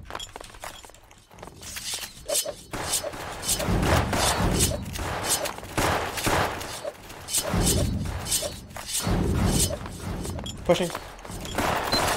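Grenade blasts and bursts of gunfire in a video game: loud booming explosions and crackling shots come in uneven waves, with a player speaking briefly over the chaos.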